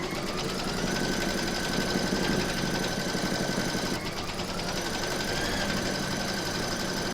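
A sewing machine stitches fabric for a sunflower coaster, giving a fast, even mechanical whirr of needle strokes that runs steadily with a brief pause partway through, close and loud.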